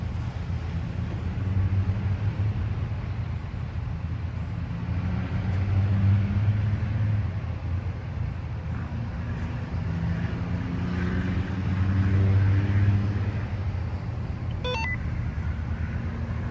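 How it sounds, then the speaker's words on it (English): A pickup truck's engine idles and rumbles steadily at close range while it backs an RV into a 40-foot parking spot, its low drone swelling slightly a couple of times, with no talk over it. "I'm trying to straighten out the truck."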